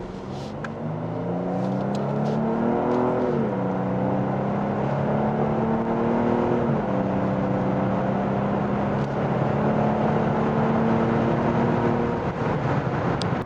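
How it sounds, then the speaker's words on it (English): A 2021 Genesis G80 3.5T AWD sedan accelerating hard in sport mode, its synthesized active engine sound droning steadily and rising in pitch through several gear shifts over road and wind noise inside the cabin. "Listen to the sound of the engine."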